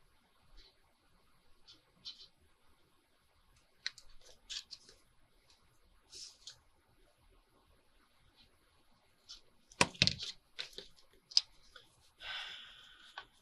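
Scissors snip through paper while corners are trimmed on handmade paper pockets, with a run of short, faint clicks and crisp cuts spaced apart, then a louder cluster of rustling snips near the end, with no talk.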